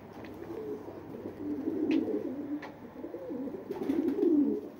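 Pigeons coo softly and close by in repeated low, rolling calls, with a few faint chirps and rustles between them.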